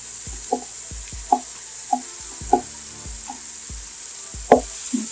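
Minced meat cooks in a pan with whole spices, turmeric and chili powder under a faint, steady sizzle, while a spoon knocks against the pan in regular, evenly spaced thuds about every half second.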